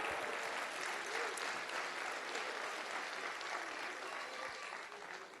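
A church congregation applauds with steady, dense clapping that fills the whole stretch, sustained and fairly even before tapering slightly at the end.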